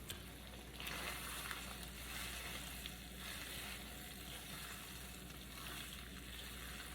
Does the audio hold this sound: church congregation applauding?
no